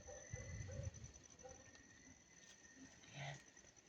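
A bird in a garden plant gives several soft, low cooing notes close by, a short run of calls followed by scattered quieter ones amid faint background hum.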